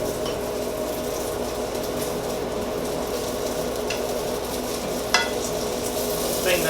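Zucchini noodles sizzle steadily in hot oil in a pan for shrimp scampi, a continuous close frying hiss with faint stirring and a couple of light utensil clinks near the end.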